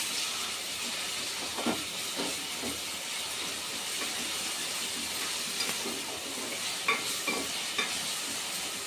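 Ginger garlic paste and 600 grams of raw prawns fry in oil for a tomato prawn curry: a steady, moderate sizzling hiss with occasional stirring knocks and clicks from the pan.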